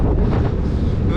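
Strong headwind buffets the microphone while cycling at the finish of a time trial, a loud, close, continuous roar of wind noise throughout.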